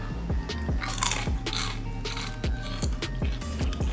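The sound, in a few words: crunch of crispy turkey skin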